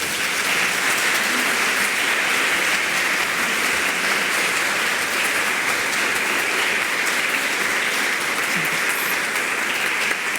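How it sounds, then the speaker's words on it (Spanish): Sustained audience applause at a university conference in Costa Rica, a dense steady wash of many hands clapping, loud and even throughout with no talk over it. "Les agradezco que compartamos un fuerte aplauso"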